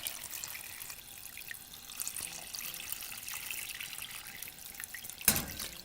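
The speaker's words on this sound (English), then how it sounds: "now I'm going to add just enough water to cover." Water poured into a pot of caramelized pork belly with eggs, a steady close trickle and splash running for several seconds, ending in a brief louder clatter near the end, with no talking.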